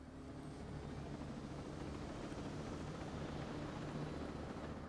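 A helicopter in Tom Clancy's Ghost Recon Breakpoint on PS4 gives a steady, droning engine and rotor rumble that holds at an even level throughout, with no talk over it.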